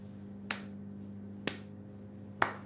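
Three sharp, isolated hand claps land about one second apart, forming a steady beat over a faint steady hum.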